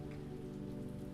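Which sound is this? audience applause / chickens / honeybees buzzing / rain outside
rain outside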